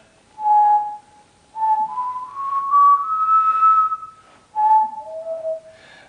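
A person whistling clear, pure tones in several separate phrases, some held steady and some sliding up and down in pitch, loud and close against silence.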